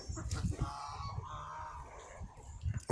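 A flock of ornamental ducks calls near and far in a breeding enclosure, giving repeated honking quacks in an uneven rhythm that ends with a loud close call, with no speech over them.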